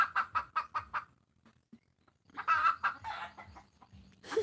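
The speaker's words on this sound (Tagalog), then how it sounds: "mas malakas pa yung ingay ng manok kaysa sa ingay ko" A chicken clucks in a quick run of loud, close, rhythmic calls, goes quiet for a moment, then breaks into another burst of agitated clucking and squawks.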